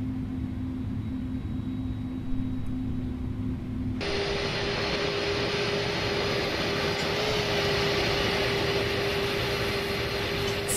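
An Airbus A310 jet engine spools up at startup in Microsoft Flight Simulator. A steady engine drone is joined midway by a higher turbine whine that then holds, with no voices.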